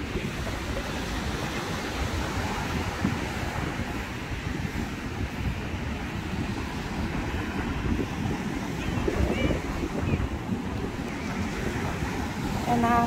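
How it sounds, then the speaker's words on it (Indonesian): Ocean waves wash onto a city shore in strong wind, a continuous rushing surf with wind buffeting the microphone, moderately loud and steady. "Enak sekali dengar suara ombak ini."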